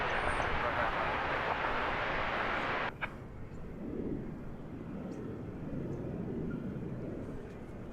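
A passenger airplane takes off from DFW Airport on a short flight to Waco, heard as a broad, steady jet roar that holds loud and then drops to a quieter rumble after a sharp knock.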